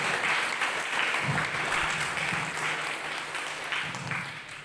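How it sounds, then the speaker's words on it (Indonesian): An evening talk audience claps for a guest speaker, Tengku Akbar, in a sustained round of applause that starts full and tapers slightly toward the end, with faint murmurs underneath. "Tolong aplaus, tepuk tangan buat beliau."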